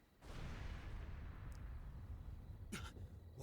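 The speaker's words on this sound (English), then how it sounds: "What was that explosion? It came from the villa." A deep, sustained blast booms at a villa in the video game Trails Through Daybreak II, a broad rumbling roar that lingers, followed by a few short sharp cracks near the end.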